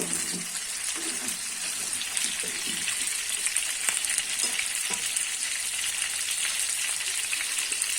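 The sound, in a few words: new potatoes frying in a wok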